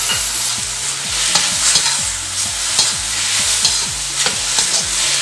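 Stir-frying king oyster mushroom with sliced pork and chives, seasoned with soy sauce: a loud continuous sizzle over which a spatula scrapes and clacks against the wok in a steady, repeated stirring rhythm, with no voices.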